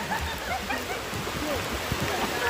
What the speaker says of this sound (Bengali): আবার সেরা লেভেলের বৃষ্টি শুরু হয়ে গেছে।